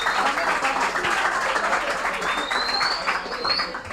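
Audience applause for a singer at a school competition show, sustained clapping from a crowd with a faint whistle or chirp drifting over it and some murmured voices underneath.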